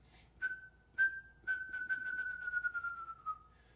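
A person whistles an imitation of a wrentit's bouncing ping-pong-ball call: a dozen or so short pitched notes that start spaced apart and then quicken and run together, close and clear.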